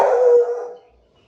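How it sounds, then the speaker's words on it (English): A dog lets out a loud, drawn-out howl indoors, a single sustained wail that fades and tapers off over about a second. "That's our dog"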